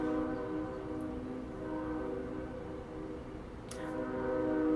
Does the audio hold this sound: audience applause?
no